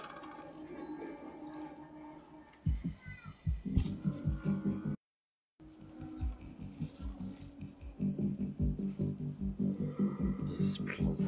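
A kitten meows repeatedly inside the video game Stray, the cries close and clear over a mechanical rattle and game sounds, with a short silent gap midway.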